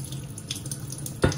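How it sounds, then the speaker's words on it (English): Cold water runs from a kitchen tap into a mixing bowl for pancake batter, a soft steady stream that ends in a brief louder splash near the end. "you're gonna put it in cold water"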